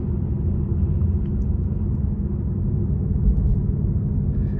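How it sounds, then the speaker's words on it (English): A 2023 Ford Mustang GT Premium 5.0 V8 rumbles steadily during a drive, its deep exhaust drone continuous and close, with no talking. "where specifically with the exhaust sound, it sounds so nasty."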